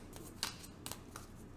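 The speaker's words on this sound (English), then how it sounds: "2 more shuffles." Tarot cards riffled and shuffled by hand during a reading, giving a few soft, brief papery bursts close by, alone with no talk.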